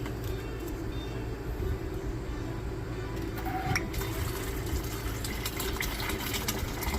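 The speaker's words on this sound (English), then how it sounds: "That's a nice little fountain." Water runs steadily through a homemade dog water fountain, a continuous trickling wash with faint splashes, fairly quiet and unbroken.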